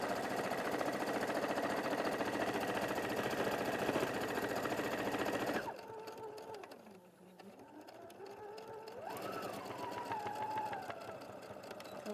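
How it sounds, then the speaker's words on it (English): A domestic sewing machine stitches the final side of a fabric panel, running steadily and close for several seconds, then slowing and stopping into quieter background hum and faint shifting sounds. "this is the last side to sew"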